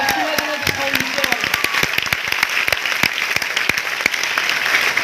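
Scattered, sharp claps ring out from a seminar audience at a motivational talk on income and lifestyle, loud and close, with a voice speaking over them at the start.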